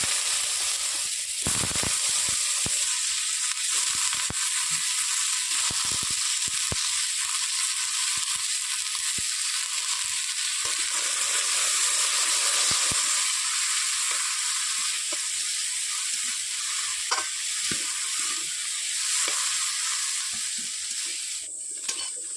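Potatoes fry in a pan with a continuous bright sizzle that stays loud and even throughout, dotted with occasional clicks and scraping stirs, heard close with no voices.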